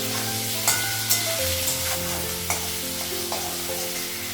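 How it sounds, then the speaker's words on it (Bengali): Sliced potatoes and onions fry in a pan with dried and fresh green chillies, a steady sizzle running under several sharp scrapes and taps of a stirring spoon, close and fairly loud throughout. "পেঁয়াজটা আলুটা লাগালাম, একটু ভেজে নিই"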